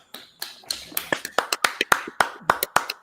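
Hands clapping in a casual podcast studio setting, a dozen or so sharp, fairly loud claps in an irregular but steady rhythm, close to the listener, with no talking over them.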